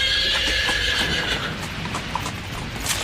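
A horse in the Khatron Ke Khiladi stunt show, galloping while dragging a contestant, gives steady clip-clop hoofbeats and a whinny, with a bright high tone early on and no talking.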